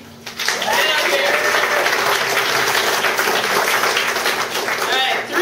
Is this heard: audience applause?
yes